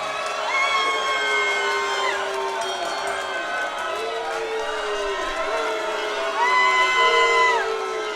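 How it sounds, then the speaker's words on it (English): Boxing crowd at Sony Hall in New York City reacts to a majority decision, a sustained roar of cheers, whoops and shouting voices that swells louder near the end, with a ring announcer or other voices mixed in. "a mixed reaction from the crowd"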